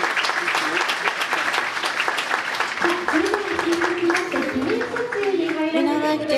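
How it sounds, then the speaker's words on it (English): Loud, sustained applause from the audience at a Japanese cuisine award ceremony for prize winners, dense clapping throughout with a voice and music rising underneath partway through. "please give them a big round of applause"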